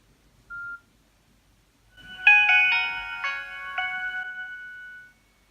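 A Nokia 2760 flip phone plays its short melodic startup tune on power-up, a clear ringing chime sequence lasting about three seconds after a brief single beep, heard alone in a quiet room.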